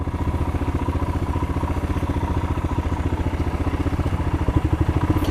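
A Royal Enfield Himalayan motorcycle engine thumps steadily while off-roading, its single-cylinder beat fast, even and close with no talk over it.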